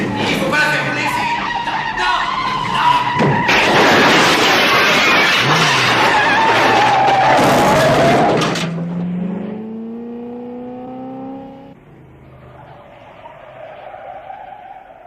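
A car engine turns over and revs hard, loud and close, with a roaring rise and a skidding burst before it fades into a lower idle as it drives off.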